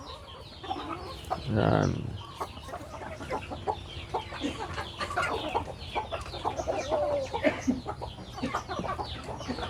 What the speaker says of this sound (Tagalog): Yung mga manok natin guys.